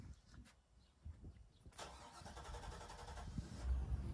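A Sea Ray 250 SDX motorboat engine cranks and catches after a quiet start, then settles into a rising, steady rumble that grows louder toward the end; no voices.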